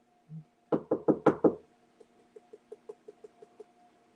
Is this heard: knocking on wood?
yes